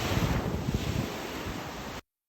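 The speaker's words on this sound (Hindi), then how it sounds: "समुद्र उठ रहा था और फिर श्री कृष्ण की स्वर्ण नगरी द्वारका सदा के लिए समंदर में समा गई।" Ocean surf rising and rushing in a steady broadband roar with wind buffeting, loud and close, no voices, cut off abruptly after about two seconds.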